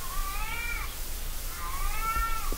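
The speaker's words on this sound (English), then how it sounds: "Oh, kitty cat." A cat meows twice in the video game Erie, each call a drawn-out, wavering mew separated by a short pause, clear and close against a steady background hum.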